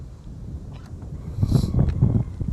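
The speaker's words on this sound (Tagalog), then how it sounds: "Kaya kung mapapansin nyo, napakalakas ng hangin." Low, buffeting wind rumble against the microphone at a property in Santo Tomas, Batangas, near Mount Makiling, gusting stronger in the second half, with faint road noise in the background.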